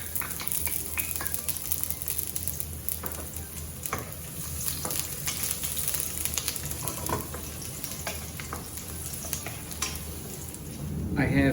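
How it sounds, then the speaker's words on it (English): About five slices of ginger and three cloves of sliced garlic sizzle in leftover oil in a pan, frying with a steady, close crackle. Occasional stirring scrapes ring out over the unbroken hiss. "Now in the same pan and with the amount of oil left, throw in about 5 slices of ginger"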